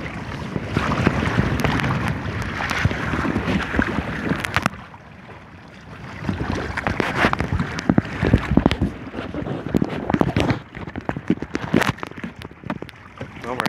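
A Hobie Adventure Island sailing kayak moves across the water of Baltimore's Inner Harbor in the wind, with steady rushing water and heavy wind buffeting the microphone, briefly easing midway before returning.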